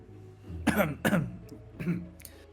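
A person clears their throat a few times in short, gruff bursts, close and moderately loud, with brief pauses between.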